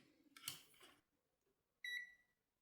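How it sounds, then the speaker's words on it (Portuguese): A small multimeter beep sounds during a capacitor test on a circuit board: one clear tonal bleep, close and alone, lasting about half a second. It comes after a burst of handling noise. "ele mostrou pra gente um pequeno bip"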